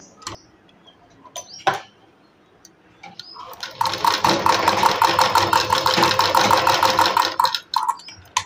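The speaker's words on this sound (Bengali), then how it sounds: "3 ইঞ্চির উপরে দাগ দিয়ে এটার উপর দিয়েও একটা সেলাই করে নেব।" Sewing machine stitching a sleeve, starting after a few scattered clicks and running steadily for about four seconds with a fast, even mechanical whir before stopping.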